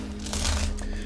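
Runestones swirled and shuffled together by hand before a psychic reading, a close, continuous rattling clatter of small stones rubbing and knocking, with no talk over it.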